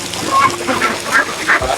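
Farm ducks quack and chatter close by in short repeated calls, a lively cluster of bird voices over a soft background.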